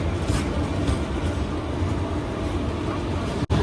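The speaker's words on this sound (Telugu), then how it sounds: "అది టాటా నగర్ ఎస్ఎంఈటీ బెంగళూరు ఎక్స్ప్రెస్ ట్రైన్ ఇది" Tata Nagar SMVT Bengaluru Express train passing close by, a loud continuous rumble and rattle of carriages that holds steady with a brief sharp dropout near the end.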